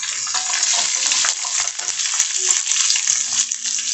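Chopped onion, garlic and ginger frying for a masala, a bright steady sizzle close by with soft stirring clicks and no pause.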